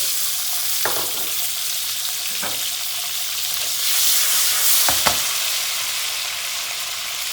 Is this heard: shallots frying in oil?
yes